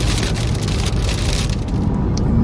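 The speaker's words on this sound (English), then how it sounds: "Rain is getting much heavier." Heavy rain from a thunderstorm drums loudly and steadily on a car while driving, a dense continuous wash with no voices.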